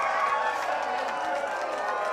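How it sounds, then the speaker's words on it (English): Wrestling crowd cheering at a Steel Domain Wrestling match between Jay Bradley and Air Wolf, a dense, sustained roar of voices at constant loudness with no breaks. "this crowd is lit up"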